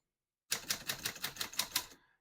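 Keys strike on a 1948 Smith-Corona Sterling portable typewriter in a quick, even run of about ten crisp clacks over a second and a half, close and alone.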